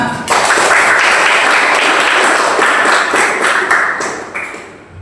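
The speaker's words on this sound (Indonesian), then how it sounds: "Kita kasih apresiasi terlebih dahulu kepada semua kelompok. Tepuk tangan." A classroom full of students claps for all the groups, dense steady applause that starts abruptly, holds loud for several seconds, then tapers off at the end.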